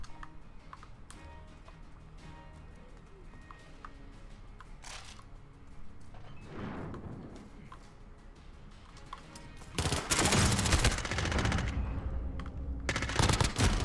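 Pistol gunfire in the video game Call of Duty Modern Warfare: scattered sharp shots through a busy game mix, growing into loud, dense bursts of firing in the final seconds.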